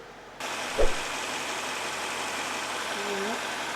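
A Mercedes-Benz S-Class engine idles with a steady, even drone after starting, a brief thump early on and a low hum of engine vibration and resonance running throughout.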